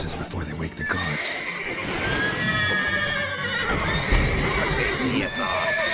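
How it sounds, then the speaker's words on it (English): Horses whinnying in The Witcher 3 video game, shrill neighs rising over a busy, steady game soundscape with a louder call near the end and faint hoof clatter mixed in. "Call the horses before they wake the guards."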